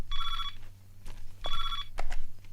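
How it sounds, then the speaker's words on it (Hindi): A telephone bell rings in bursts, two clear trills separated by a short gap over a low background hum, with indistinct room noise between rings and no clear speech. "मिश्रा जी का फोन है।"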